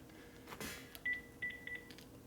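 Short electronic telephone dialing tones for a call from a home workshop during a 1967 Harley-Davidson 74ci shovelhead FLH assembly: a faint run of separate beeps with brief gaps, preceded by a soft rustle.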